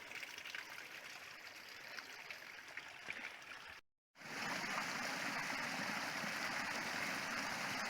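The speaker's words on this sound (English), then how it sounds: "This usually is dry and it's just a wash, but right now it looks like a creek." Water rushing down a normally dry desert wash that has turned into a flowing creek after rain, a steady close rushing and splashing with a brief dropout partway through before the flow resumes, louder than before.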